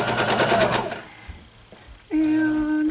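A sewing machine stitches fabric for a DIY bushcraft top in close, steady bursts, running for about a second, pausing, then starting again with a loud, even whir.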